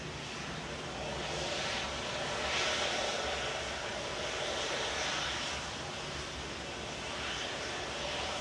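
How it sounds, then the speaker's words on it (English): A Virgin Atlantic Airbus A330-300 with Rolls-Royce Trent 700 engines passes near Manchester Airport, a broad, steady jet roar that swells in the middle and eases slightly, distant and fairly faint, with no voices. "Flight 86 from Las Vegas for Virgin Atlantic, A330-300 with its Rolls-Royce Trent engines, Trent 700s"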